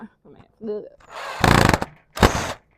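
A power drill drives screws into timber in a backyard, with short whirring bursts that grind loudly, then a second shorter burst, after brief quiet voices at the start.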